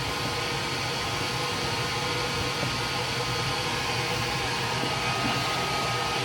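A laser engraver runs while etching a crystal ornament coated with chalk marker, giving a steady, even broadband whir like a fan that holds unchanged throughout, with no talking.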